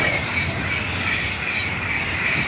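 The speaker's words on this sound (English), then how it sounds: "Let's let the train pass." A train rolls past close by in a continuous loud rumble and roar, with a faint high wheel squeal running through the whole stretch and no voices over it.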